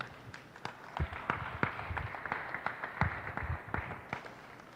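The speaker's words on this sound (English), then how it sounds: "Let's give them a big round of applause." Sparse applause from a small crowd at a junior Hereford cattle show, scattered claps for the bull divisions, fairly faint and irregular rather than a full ovation.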